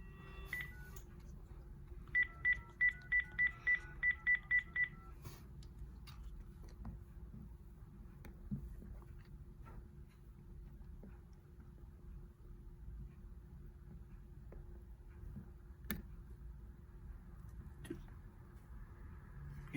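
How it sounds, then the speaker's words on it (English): Panasonic KX-TG222B DECT 6.0 cordless phone keypad sending a quick run of about eight evenly spaced dialing tones, clear and close, over a low steady background hum with no talking. "I want to dial the Farmer Jones line."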